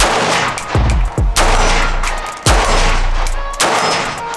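A rifle fires 7.62x39 ammunition outdoors at a gun club, four loud sharp shots spaced about a second apart, each with a brief echoing tail.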